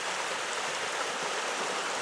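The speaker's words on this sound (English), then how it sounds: "So, yeah, just a cool little creek." A small creek runs over rocks and boulders with a steady, broad rushing wash, continuous and close, with no other sounds above it.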